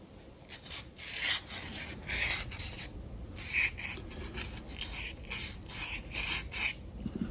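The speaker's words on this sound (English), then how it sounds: "We can do the same thing with a little sandpaper," Sandpaper scrubbing the inside of an engine crankcase during maintenance, a series of quick, rhythmic rasping strokes in bursts of several seconds with brief pauses, close and fairly loud with no talk.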